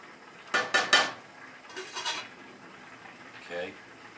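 A spoon stirring pasta sauce in a pot, with a quick cluster of metallic clanks and scrapes followed by softer clinks, close by in a quiet kitchen.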